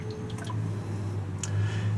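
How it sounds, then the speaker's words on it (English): Water flows into an RV black waste tank during a rinse, heard as a low steady rushing hum with small drips and gurgling splashes scattered over it. "We're going to let some more water run into the black tank."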